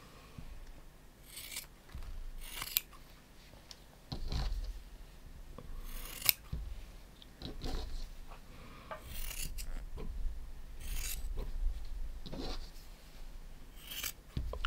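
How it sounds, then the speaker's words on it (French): Scissors snip through the yarn fringes of a tapestry crochet pumpkin cushion cover, about a dozen crisp isolated cuts spread irregularly, close, with faint handling rubs between them. "Ce qu'on va faire, c'est qu'on va les couper."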